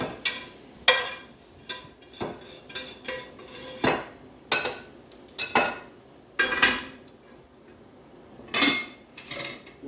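A utensil scrapes and taps against a frying pan as ham is stirred into fried rice, a steady series of clinks and clatters, close by, with no voices.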